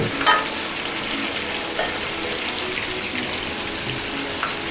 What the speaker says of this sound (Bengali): এবার নাড়া ভালো করে নাড়িয়ে দে